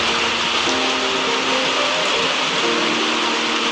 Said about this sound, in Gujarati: તમે ત્યાં જોઈ શકો છો કે વરસાદ પડી રહ્યો છે